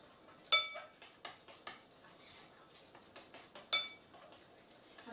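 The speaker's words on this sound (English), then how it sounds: "this is a nice tablespoon of baking powder. So you'll mix that up a little bit." Dry biscuit ingredients with baking powder being stirred in a bowl, a utensil clinking and scraping against the dish in irregular close taps, fairly quiet with no talking.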